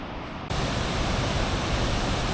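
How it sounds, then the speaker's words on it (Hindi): A powerful mountain waterfall on a high-altitude trek, its rushing flow a loud, steady broadband roar filling the whole clip, briefly softer at the start before surging up close. "इस वाटरफॉल का भाई"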